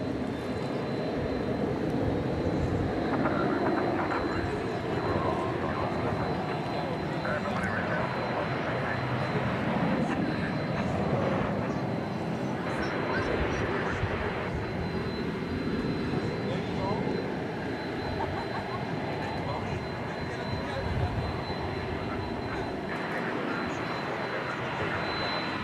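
Airplanes take off from DFW Airport at night, a broad, steady roar of jet engines rumbling continuously at a distance for the whole stretch, with no clear speech over it.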